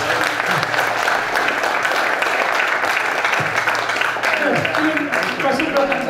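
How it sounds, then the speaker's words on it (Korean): A lecture audience claps steadily and loudly after a talk, a dense continuous wash of applause throughout, with a voice speaking over it near the end. "오늘 시간 관계에서 오늘 박사님께 박수."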